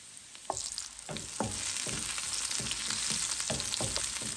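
Chopped onion and garlic frying in oil in a pan for dal, a steady loud sizzle with periodic scraping stirs and clinks.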